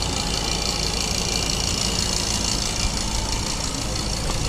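A steady, loud vacuum pump motor drones continuously during an air-conditioning vacuum test on a 1990s Honda, with a broad hiss and low rumble, unchanging throughout with no pauses.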